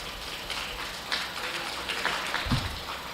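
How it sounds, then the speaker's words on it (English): Scattered applause from a crowd at a county fair beef cattle show, light and diffuse with a few louder claps near the end, set against steady room noise. "Let's give them a nice round of applause"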